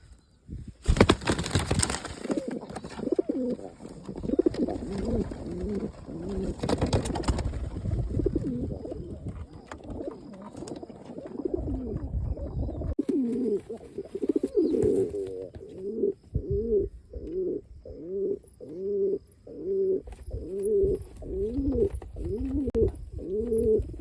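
A fancy pigeon coos repeatedly inside its coop, a steady run of low rhythmic coos that grows more regular toward the end, with some rustling and a few brief noisy bursts early on.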